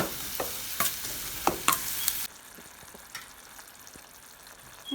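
Prawn masala being stirred and fried in a pan for Coimbatore-style prawn thokku: a loud sizzling scrape of a spoon for the first two seconds with sharp clinks, then a quieter steady frying hiss.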